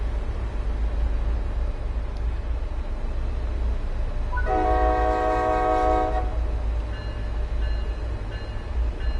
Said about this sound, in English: Oh, that's my train.